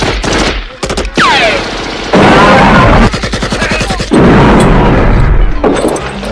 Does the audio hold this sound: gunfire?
yes